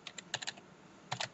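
Quiet, close keystrokes on a computer keyboard come in two short bursts of rapid taps separated by a brief pause.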